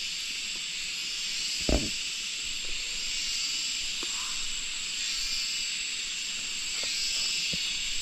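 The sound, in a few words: cicadas buzzing in forest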